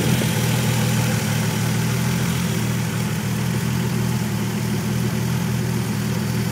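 A warmed-up Toyota Supra engine idles steadily with a smooth, even low hum and constant mechanical drone, close and uninterrupted.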